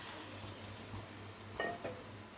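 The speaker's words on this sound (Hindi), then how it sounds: "यहाँ पर मैंने एक पैन लिया है, इसमें हम डालेंगे पल्प, जो इमली का पल्प था।" Tamarind pulp goes into a hot pan for a chaat chutney, giving a faint, soft sizzle with a couple of light utensil clinks, quiet and without talk.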